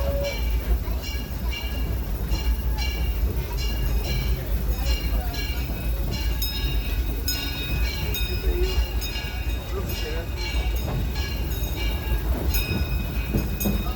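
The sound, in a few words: train moving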